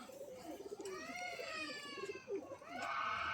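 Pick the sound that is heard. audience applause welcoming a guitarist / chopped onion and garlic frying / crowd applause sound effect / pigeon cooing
pigeon cooing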